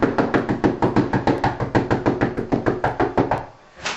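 A rapid, steady run of about twenty heavy knocks pounds on a street door, close and loud, before stopping abruptly.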